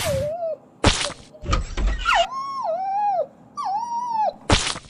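A dog that needs to relieve itself whines and whimpers in a series of rising and falling cries, broken by several sharp thumps nearby; no one speaks.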